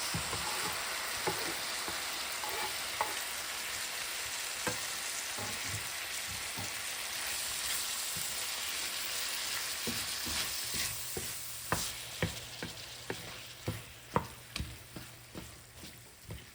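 Diced tomatoes fry in a pan for shakshuka, a constant close sizzle that gives way toward the end to a run of sharp spoon scrapes and taps against the pan.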